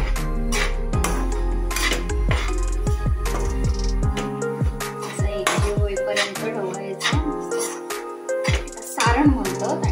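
Filling for patole being stirred in a pan, with repeated metallic scrapes and clinks of a utensil against the pan in an irregular rhythm, loud and close.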